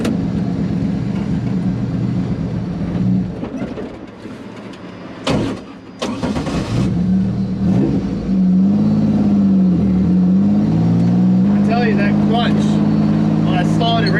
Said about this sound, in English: I gave it a little gas.